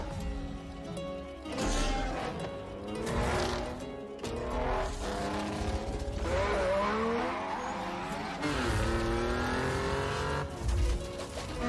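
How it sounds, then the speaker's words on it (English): Cars race and swerve in a video game trailer, engines revving and roaring with repeated tire squeals and skids, loud and close, surging and dropping in waves with no talk. "Yep, that is a car. That is another car."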